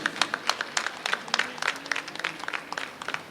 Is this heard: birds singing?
no